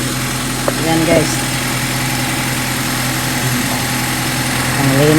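A Honda City Type Z engine idles steadily just after a tune-up, a constant close mechanical hum with faint vibration running the whole time, with brief voices and small clicks over it.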